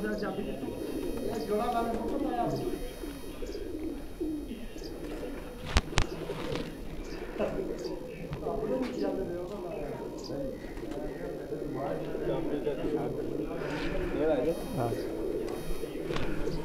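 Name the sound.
pigeons cooing, a pet pigeon named Tiger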